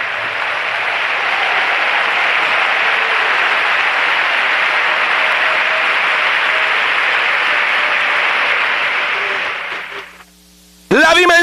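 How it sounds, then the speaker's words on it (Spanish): A church congregation bursts into sustained, loud applause, a thick roar of clapping with faint cheering that holds steady before fading out, and a voice cuts in right at the end. "¿Alguien puede aplaudir más fuerte?"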